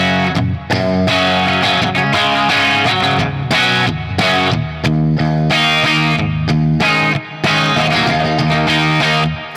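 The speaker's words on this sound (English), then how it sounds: "when you bring in a full-on humbucker guitar. I go to my PRS on this one." A clean electric guitar, a PRS with humbuckers played straight into a Bad Cat Jet Black amp, plays strummed chords and picked notes, full and warm, with brief gaps between phrases and no talking.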